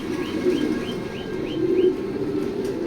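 Racer pigeons coo in a near, continuous low murmur, with a quick run of light chirps layered over it and faint background noise.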